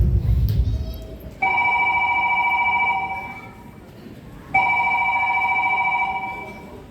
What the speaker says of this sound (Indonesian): Telepon berdering keras